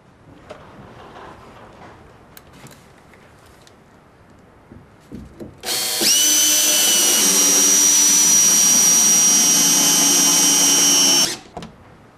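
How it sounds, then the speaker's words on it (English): Power drill driving a SPAX wood screw to join a board onto a beam, heard as a loud, steady high whine for about six seconds after quiet shuffling and handling noises, then stopping abruptly. "you want to screw together two planks or beams, or if you want to draw a board onto a beam"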